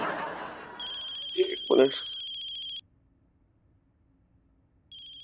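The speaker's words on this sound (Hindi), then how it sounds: "मेरा फोन है भाई, उठा लूं भाई?" A mobile phone ringtone plays a bright repeating electronic melody for about two seconds while someone speaks over it, then stops and briefly starts again at the very end.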